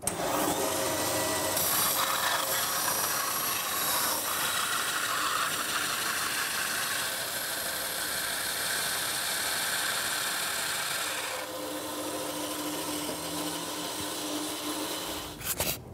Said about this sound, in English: I'm gonna move this over to the bandsaw